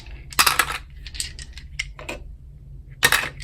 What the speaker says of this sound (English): So we're going to roll the fourth set of dice for you now, group one, the Looney Tunes dice.